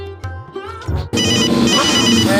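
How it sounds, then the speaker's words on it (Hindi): A telephone rings with a bright, warbling electronic ringtone, starting in short bursts and then sounding continuously and loud. "किसका फोन आ गया"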